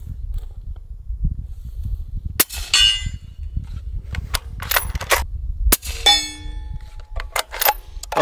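A very quiet rifle fires at a small steel swinger target at the range, giving several sharp metallic clangs that ring out briefly, some in quick pairs, over low background rumble.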